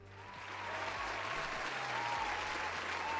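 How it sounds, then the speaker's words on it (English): Applause from a crowd swells up and holds steady, a dense wash of clapping hands with no voices over it. "let's give a little round of applause"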